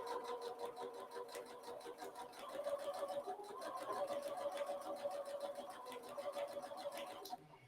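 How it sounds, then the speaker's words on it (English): Janome sewing machine stitching a slow, steady run while quilting, a rapid even needle clatter with a motor whir underneath, close and continuous before stopping at the end. "I've been sewing on this machine long enough to know right where I line up the presser foot"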